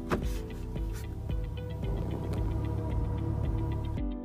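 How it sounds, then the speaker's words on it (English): An electric car just shifted into drive gives off a steady low electric hum, accompanied by faint regular ticking and a few soft clicks, with no one talking. "You're going to hear this kind of hum."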